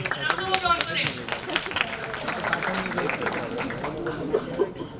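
Round of applause from the audience at a debate competition, scattered close claps mixed with talk and a few chuckles, uneven and fairly quiet.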